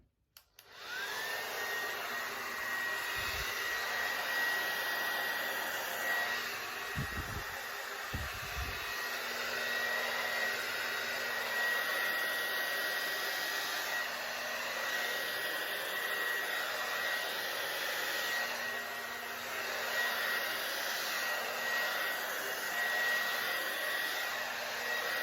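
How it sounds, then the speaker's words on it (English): A hair dryer, used here on acrylic pour paint, blows continuously with a steady high whine and airy rush, close by, with a few brief low thumps early on. "Okay, I don't know if I try the hairdryer because it's a bigger"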